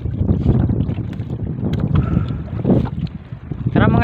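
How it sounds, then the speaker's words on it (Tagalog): Steady, strengthening wind buffets the microphone outdoors on open water during traditional handline fishing from a small boat, a continuous roar with a faint engine-like rumble and brief water splashes. "uwi na tayo at lumalakas na po ang hangin"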